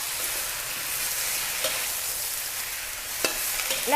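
Sliced cabbage stir-frying in a hot wok over high heat, a steady loud sizzle with occasional scraping stirs and clinks of the spatula, no talking.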